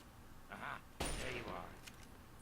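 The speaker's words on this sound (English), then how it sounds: "So they're shooting at those super mutants." Fallout 3 gunfire aimed at super mutants near the Citadel: two short bursts of shots at moderate distance, the second louder, under a soft voice.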